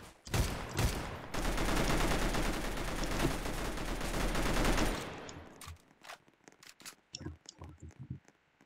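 Rapid automatic gunfire in a Roblox video game rattles in a dense, loud burst for several seconds, followed by scattered single shots and short bursts as the action calms.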